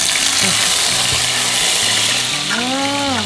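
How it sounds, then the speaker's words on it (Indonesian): Ground spice paste sautéing in a hot pan for green chili chicken, a steady loud sizzle and fry with scraping and stirring clatter, a rising squeal near the end. "ditumis ya, tumis. Tuh, masukin semua itu, semua."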